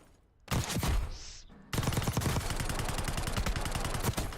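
Rapid automatic gunfire from a gun in the Warzone video game, a loud close burst followed by a sustained, rhythmic stream of shots with no pause.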